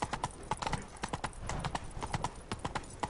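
Roach the horse's hooves clip-clopping in The Witcher 3, a brisk, regular trot of sharp, close hoof strikes with no other sounds.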